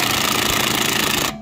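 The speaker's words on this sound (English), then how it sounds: "take this Milwaukee, put it on setting number 2 right here, so we know we're not going to over tighten it" Milwaukee impact wrench on its second setting tightening wheel lug nuts on a Land Rover Discovery, a loud close rapid hammering burst that cuts off abruptly near the end.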